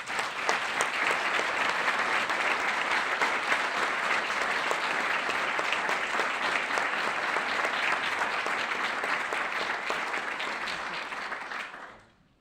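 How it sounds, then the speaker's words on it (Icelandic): A crowd at an awards ceremony in a Reykjavík hotel applauds warmly and steadily for about twelve seconds before the clapping quickly fades out. "Ef við ekki að gefa þeim gott klapp?"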